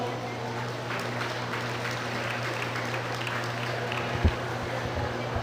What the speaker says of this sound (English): Let's give that class a round of applause.